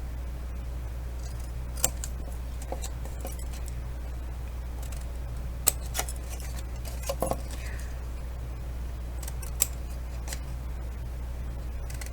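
Scissors snip small wedges into card stock tabs for a flat-fold gift box, giving a few sparse, light clicks and snips scattered over a steady low room hum.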